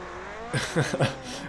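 An all-wheel drive Class 7 Baja race truck, ridiculously loud, roars close by in a few rough bursts of engine noise after a quieter start.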